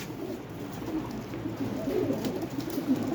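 Low, murmuring coos from pigeons at a bird market, bred as black-footed flying rollers, come in soft repeated phrases that stay close but quiet over a steady background hum.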